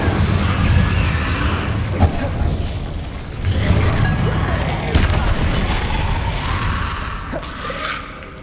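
In Hogwarts Legacy, the Incendio fire spell erupts in loud booming, crackling bursts, with several heavy thumps and flaring whooshes over a rumbling game soundscape.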